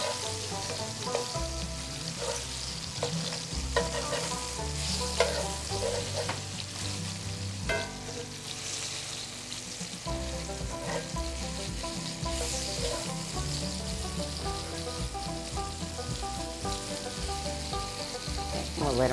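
Chunks of stew meat brown in a hot frying pan, giving a loud, continuous close-up sizzle and crackle with occasional spattering pops, with no voices over it.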